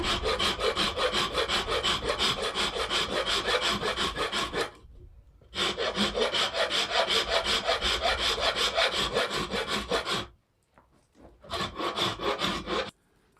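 A natural wooden slingshot fork is flattened on one side with a rasp or saw, producing loud, close, rapid rhythmic scraping strokes in long runs broken by two short pauses.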